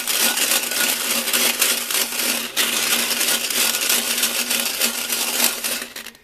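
Bullets rattle inside a lidded metal coffee can with naphtha solvent, shaken steadily and continuously at close range, a dense loud churning clatter lasting several seconds.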